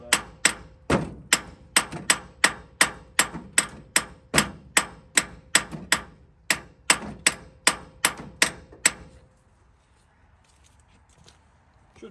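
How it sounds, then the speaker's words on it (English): A hammer taps repeatedly on the rusty starter case of an old scrap car, about twenty sharp metallic knocks in a steady rhythm, close and clear, before the striking stops and a quiet stretch follows. "Find our handy dandy hammer here. We're going to tap on the case"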